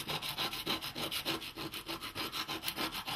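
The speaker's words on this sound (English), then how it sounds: "So I can take care of this by basically just rubbing it at an angle on a little bit of sandpaper" An oxidized soldering iron tip is rubbed at an angle on sandpaper in quick, even back-and-forth strokes, a close, rhythmic scratchy rasp with no talking.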